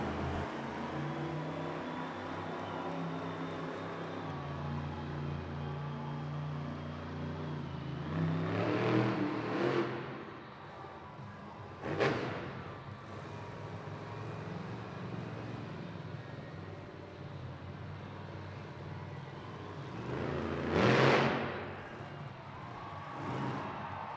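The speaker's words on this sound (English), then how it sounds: "it's time to hear the sweet tunes of that engine" The Grave Digger monster truck at a Monster Jam freestyle event in Las Vegas revs its engine in a steady rumbling idle with several loud surges, heard from a distance within the arena.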